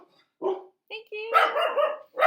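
Dogs bark loudly close by, starting with a few short yips and gruff woofs before breaking into a longer, overlapping burst of barking.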